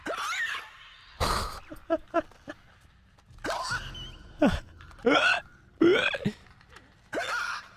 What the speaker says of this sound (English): you got the hiccups, my man?